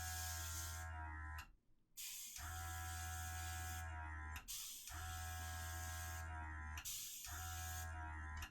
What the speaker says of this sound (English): use the airbrush and just blow some air without the paint, blow some air against it